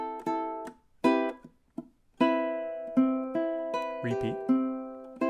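Plucked ukulele picks out a riff in clear, ringing single notes and chords with steady pauses, played solo up close.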